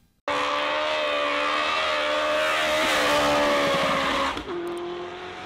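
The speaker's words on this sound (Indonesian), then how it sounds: "Mobil balap teman-teman." A toy race car plays loud electronic engine-revving and tire-squeal effects that start abruptly, hold at a steady roar with a rising pitch, then taper off near the end.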